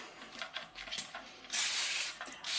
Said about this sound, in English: I love a foaming spray. How satisfying is that?